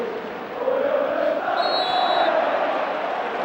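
A large football crowd at Anfield, Liverpool's stadium, during a cup match against Newcastle United, roars as a broad continuous wash of cheering that swells and holds steady, with a brief whistle partway through.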